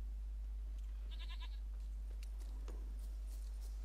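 In The Witcher 3 video game, a goat gives one short, wavering bleat over a low steady hum, followed by faint scattered game sounds.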